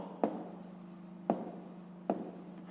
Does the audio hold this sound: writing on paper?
yes